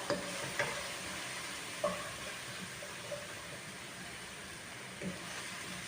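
Onions, ginger and garlic fry in a pan with a soft, continuous sizzle, broken by a few distinct clinks and scrapes of stirring, quiet and close.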